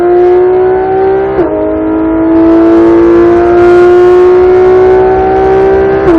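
A Porsche GT3 RS accelerates hard on a race track at Speed Vegas, its engine a loud, close, rising howl that dips briefly at a gear shift and then climbs again, with no talk.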